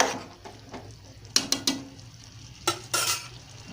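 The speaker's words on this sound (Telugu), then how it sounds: "హై ఫ్లేమ్లో పెట్టుకొని ముక్కలు మగ్గనిద్దామండి." Pieces of bottle gourd and tomato cooking in a pan over high flame for a homemade curry, with a steady low sizzle broken by a few sharp metallic scrapes and clinks of a stirring spoon against the pan.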